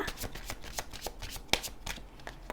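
Tarot cards shuffled by hand, a rapid run of crisp riffling snaps and soft flicks close up, with one sharper slap midway through.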